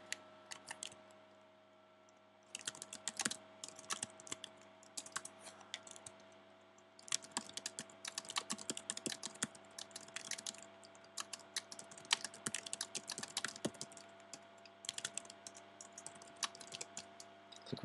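Typing on a computer keyboard while entering page content in a web CMS editor, with bursts of rapid key clicks separated by short pauses, close and clear over a steady background hum.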